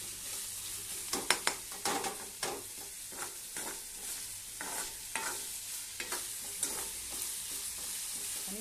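Chopped onion with ginger and garlic frying in a hot pan for a yellow potato bhaji, a soft steady sizzle under intermittent scraping stirs of a spatula, fairly quiet and close.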